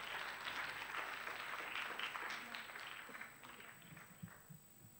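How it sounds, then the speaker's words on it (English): Audience applause at an English speech contest, a steady patter of clapping that is fairly faint and thins out toward the end. "A huge round of applause."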